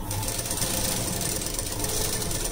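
A sewing machine runs steadily while stitching a blouse with added cups, a continuous close mechanical whir and rapid needle chatter for the whole stretch, with no talking.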